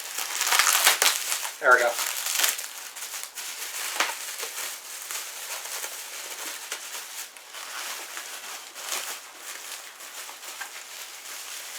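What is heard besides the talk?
unwrapping a packaged item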